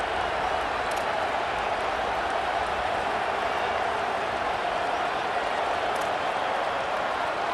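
Stadium crowd noise during the fourth quarter of an SMU vs Auburn college football game: a steady, loud, wide roar of cheering that never lets up.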